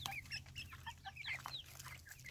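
Farm chickens kept at a small coop cluck softly in a busy cluster, many short overlapping clucks and chirps from young birds nearby, faint and continuous over a low steady hum.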